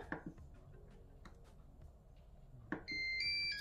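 A Cookeo multicooker finishes cooking and gives a short series of electronic beeps near the end, after quiet kitchen clatter and small knocks in a room.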